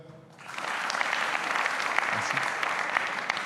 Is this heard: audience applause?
yes